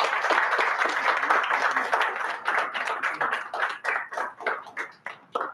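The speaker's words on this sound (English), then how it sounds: "please give him a round of applause" Audience applause at a Toastmasters club meeting, dense clapping that thins out toward the end into a few separate, distinct claps.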